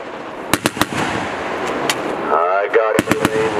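Several sharp, loud reports from an M2 Browning heavy machine gun on a National Guard firing range, in short separated bursts with gaps between them, while people talk nearby.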